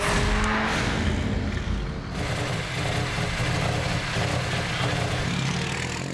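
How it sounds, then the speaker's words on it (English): Front-drive Toyota Corolla rally car on a rally stage in Otago, its engine droning loud and steady throughout, with a brief higher rev near the start, no voices. "this time the front drive Corolla of last year's winner Hamish Anderson"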